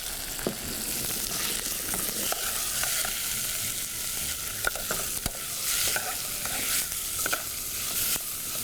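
Diced chicken frying in a pan for chicken raisin curry, a loud steady sizzle with occasional sharp scrapes and clicks of stirring, no speech.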